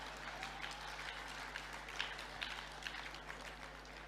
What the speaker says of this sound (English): Shall we applaud him as well?